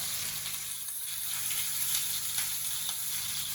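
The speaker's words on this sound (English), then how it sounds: "You also potentially want to just flip it up and do the sides of the steak as well, because you want to get them nice and rendered down as well" Tomahawk steak sides searing in a hot pan give a steady, close, hissing sizzle with a crackle of rendering fat throughout, no talk over it.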